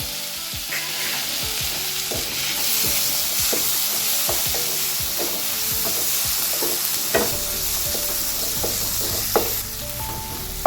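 Sliced onions and tomatoes fry in a pan, giving a loud, continuous sizzle broken by scraping stirs and occasional sharp clinks of a spoon against the metal.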